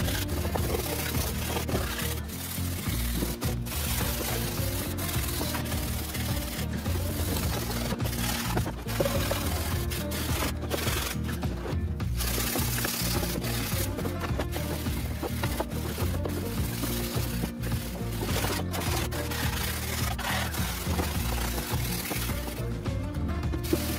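A hard brush rubs wax into the grain of a pear wood bowl, giving a steady, close scrubbing and rasping texture that continues for the whole stretch with no speech.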